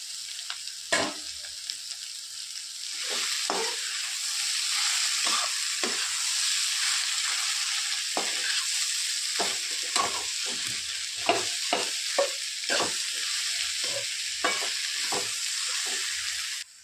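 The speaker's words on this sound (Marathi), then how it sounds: "आता हे बटाटे उकडून घेतलेले टाकत आहोत आपण त्यात" Boiled potatoes tipped into a hot frying pan with oil and salt for a Maharashtrian potato bhaji, sizzling steadily while a spoon scrapes and stirs in repeated, uneven strokes close by.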